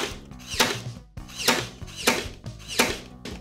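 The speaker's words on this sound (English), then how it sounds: "only use a power stapler if you are with a grown-up" Four sharp bursts from a power stapler, each snapping out at a steady pace with a mechanical thunk, close by and fairly loud.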